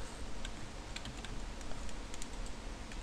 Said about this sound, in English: using the arrow keys